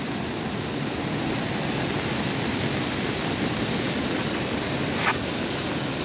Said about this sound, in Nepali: निसी खोला हो, एकदम बढिरहेको छ।